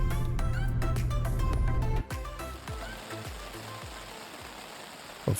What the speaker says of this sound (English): Of course, the only rain cloud hit us just when beaching.